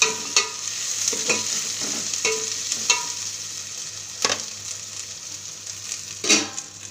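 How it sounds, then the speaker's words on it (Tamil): Ginger, green chilies and curry leaves sizzle steadily in a hot pan while a spoon scrapes and stirs now and then, with sharp metallic taps against the pan. "இஞ்சி, 2 பச்சை மிளகா, கருவேப்பிலை, இதையும் போட்டு மிக்ஸ் பண்ணிடலாம்"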